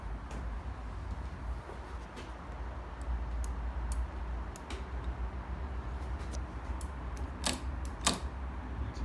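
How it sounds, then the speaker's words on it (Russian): The repaired front brake lever of a Honda Lead 50 scooter snaps back with a few crisp mechanical clicks, scattered at first and then two sharp, close clicks near the end, over a low background hum. "Теперь ручка работает, как и должна работать. Четко отщелкивается."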